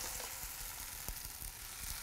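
Deep-fried crispy scorched rice for Chinese-style nurungji-tang sizzles steadily, a dense close crackle with a few sharper pops across two seconds and no speech over it.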